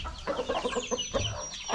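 Three-month-old chickens cluck repeatedly on a farm, a busy close-up flock with overlapping short calls and a thin high background tone.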